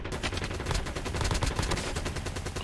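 ICR rifle gunfire in Call of Duty Mobile: a continuous, fast stream of loud, close shots in a dense automatic burst with heavy low-end thumps.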